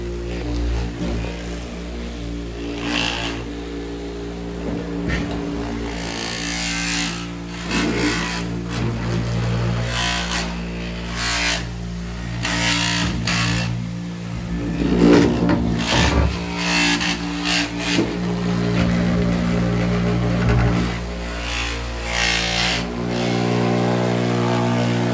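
Floor scrubbing machine running steadily while cleaning a restroom, a continuous motorized hum and whir with fluctuating intensity throughout, close and loud with no talking.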